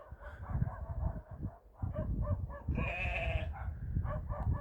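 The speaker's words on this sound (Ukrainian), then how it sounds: "Собаки якісь гавкають." Dogs bark in repeated short bursts across a large winter enclosure for Romanov sheep, fairly near, with some layered or overlapping barks and a steady low background rumble.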